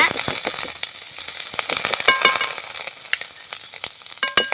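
Butter melting and sizzling in a hot pan at a tea stall cooking chicken burger fillings, a crackling sizzle with sharp pops and stirring clicks, loud and close.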